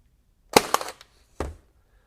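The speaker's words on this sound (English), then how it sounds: "you pull the dead man switch and pull that trigger, and you're shooting" A RIDGID cordless 18 gauge stapler or 23 gauge pin nailer fires in quick sharp snaps, two close together and then one more a moment later. Each snap is crisp and short, with quiet in between.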